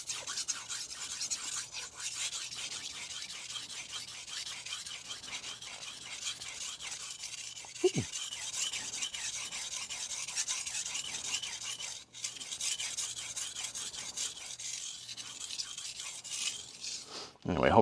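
Knife being sharpened on a Morihei Hishiboshi whetstone, a steady close rasping scrape repeating in long back-and-forth strokes, continuous and fairly quiet, with no talk over it.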